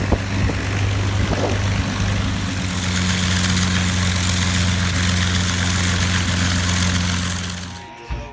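The engines of a B-17 bomber running on the ground, a loud steady low drone with strong tonal hum, heard close and continuous before cutting off abruptly at the end.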